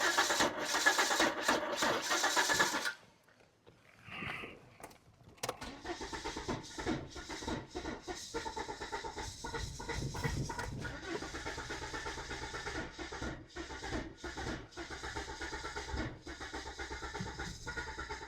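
A Volvo V70 with a no-start fault: loud bursts of the starter cranking, then a brief pause, then a long run of uneven cranking that never catches, heard close up with no talk.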